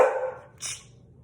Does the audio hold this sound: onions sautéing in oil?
no